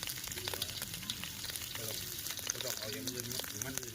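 Duck larb stir-frying in plenty of hot oil, a steady sizzle and crackle running throughout with scraping stirs, while people talk faintly in the background.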